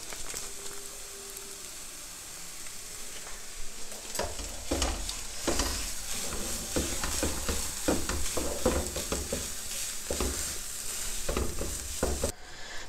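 Chicken and vegetables for a sandwich filling cook in a pan over high heat: a constant loud sizzle with frequent scraping spoon strokes growing busier midway, and no talking.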